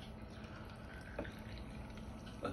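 Ginger ale pours softly into a mojito, a faint fizzing, trickling liquid sound with a couple of tiny splashes, heard alone at low volume.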